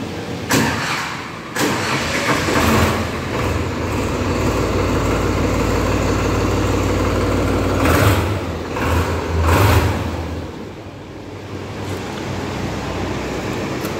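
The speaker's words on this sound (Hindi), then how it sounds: "ट्रैक्टर की आवाज़ कैसी लगी" A 2021 Sonalika Mileage Master Plus 39 tractor engine cranks and catches, then runs steadily with a low rumbling drone, with a few louder revs partway through; no one speaks.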